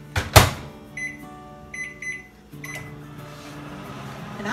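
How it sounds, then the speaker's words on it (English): A microwave oven's door clunks, then a series of short electronic beeps as buttons are pressed, followed by the low hum of it starting to run while heating a cup of water. "I just want to put that in my microwave"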